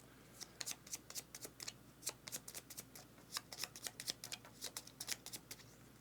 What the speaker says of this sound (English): shuffle it into the deck, it says